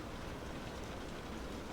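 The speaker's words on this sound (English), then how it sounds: "what do I want to sleep to on top of these rain noises?" Steady rain noise at bedside in a sleep-sound recording, a dense even hiss of falling rain that stays constant and soft throughout with no voices.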